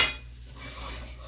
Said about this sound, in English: scraping everything out